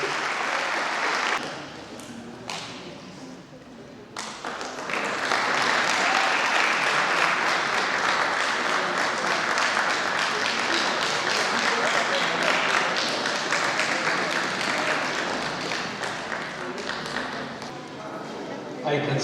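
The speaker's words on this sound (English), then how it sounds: "A big round of applause." An audience at an awards ceremony applauds a first-prize winner with dense, steady clapping that swells after a brief lull and holds for many seconds, with some voices underneath.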